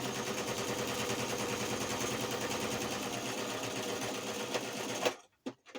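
A sewing machine stitches a fabric scrap cover in a fast, steady mechanical rattle, running evenly and close for about five seconds before stopping abruptly, followed by a few soft handling clicks.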